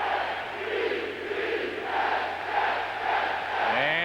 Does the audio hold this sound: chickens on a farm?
no